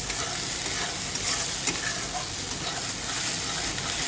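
Eggplant bharta fries in oil while being stirred in the pan, producing a loud, steady, close sizzle with soft scraping stir sounds throughout and no voices.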